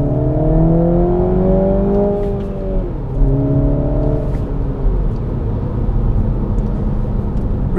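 A 2022 Mini Cooper S two-door with a 2-liter four-cylinder pulls through the gears, its engine note rising in pitch, dropping briefly at a shift near the midpoint, then climbing again under steady road and wind roar from inside the car.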